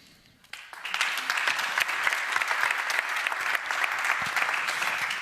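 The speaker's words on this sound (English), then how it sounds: "Please join me with your generous applause in thanking the members of the panel." Conference audience applauds a humanitarian climate panel, a sudden burst of many hands clapping that starts after a brief quiet moment and continues steadily and evenly to the end.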